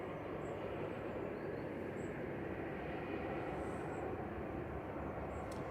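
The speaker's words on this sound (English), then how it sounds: "Ryanair 2071 from Alicante there, 737-800" The engines of a Ryanair Boeing 737-800 airliner at Manchester Airport make a continuous, distant roar that holds steady in level, broadband rumbling throughout, with no talk.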